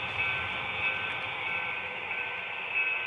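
A steady rumbling train sound, a constant low mechanical drone with a high metallic hum, as a freight train rolls through a yard.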